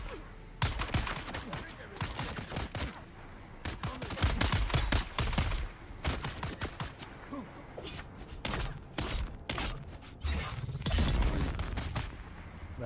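A new weapon fires in a video game, with rapid bursts of sharp gunfire shots in irregular volleys, moderately loud, separated by brief pauses.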